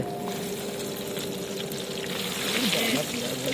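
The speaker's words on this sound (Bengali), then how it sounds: "পেঁয়াজ ঢালা হচ্ছে।" Onions being poured into a cooking pot at an outdoor picnic give a soft continuous sliding rush and hiss that grows slightly louder toward the end, with faint background noise.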